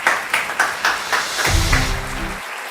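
Audience applause welcoming a speaker onto the stage at a gala dinner, a few loud bursts of clapping that merge with a low musical swell and then cut off.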